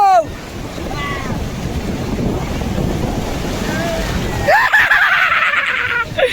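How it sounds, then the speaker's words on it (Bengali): Big ocean waves surge and break on the beach at Puri in a steady, loud roar with buffeting wind, while people shout and talk excitedly close by. "বড় ঢেউ আসছে, বড় ঢেউ আসছে"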